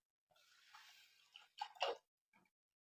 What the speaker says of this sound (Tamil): இப்போ இந்த புளி கரைசல் அதில் ஊற்றிடலாம்.